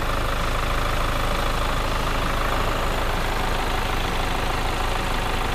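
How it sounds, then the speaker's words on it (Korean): A Kia Stinger 2.2 diesel idles with its engine bay open, a steady, even rumble that carries loud and unbroken throughout with no voices. "엔진 소리 일정합니다."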